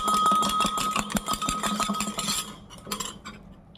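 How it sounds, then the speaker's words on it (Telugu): A spoon stirs cornflour into milk for a vermicelli milk ice pop, giving rapid, steady metallic clinks against the vessel that thin out and fade toward the end. "1 స్పూన్ తీసుకొని ఇదిగో పాలల్లో వేసుకొని కలుపుకుందాం"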